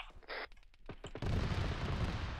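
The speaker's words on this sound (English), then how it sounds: "All is explosions, they're breaking my game." Explosions and gunfire in the video game ARMA 3 on a British military mission in Afghanistan: a few sharp, quiet bursts followed by a sustained, noisy rumble of blasts, faint overall.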